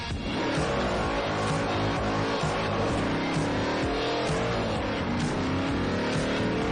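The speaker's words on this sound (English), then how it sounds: "We're gonna drive their car out of pity now," A car engine drones and revs continuously, loud and close, with rising and falling pitch as it accelerates, game-style, no talking.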